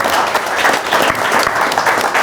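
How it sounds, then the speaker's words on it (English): Loud, dense applause from an event audience for panelists, continuous clapping with crowd noise throughout. "Round of applause for our wonderful panelists."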